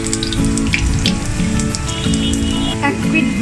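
Singaras, stuffed pastries, bubble and crackle as they fry in medium-hot oil, a dense, continuous patter of popping close by that sounds almost like running water.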